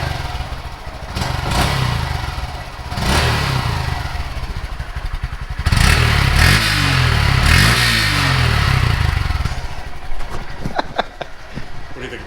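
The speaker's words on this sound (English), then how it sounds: "we're gonna start the bike up just so we can hear the stock exhaust" A Honda Grom motorcycle with its stock exhaust starts up and revs close by, the engine rising and falling in several throttle blips over a clattering idle, with no talk over it.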